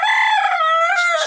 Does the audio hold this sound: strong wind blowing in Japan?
no